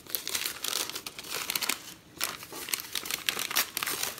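Blue gift wrapping paper crinkles and crumples steadily as it is unwrapped from a package, close and fairly loud, with a brief pause midway before the rustling resumes.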